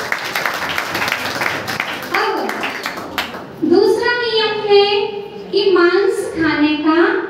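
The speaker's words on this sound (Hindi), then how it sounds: "आप लोग अपनी ताली बजा लीजिए एक बार" Audience at a Jain religious assembly for a Parasnath nirvana festival clapping together in a dense burst for a few seconds, then a voice speaks over the hall.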